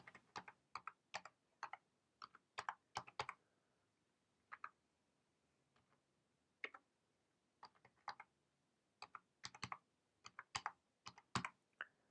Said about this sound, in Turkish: Ben bir şifre yazayım.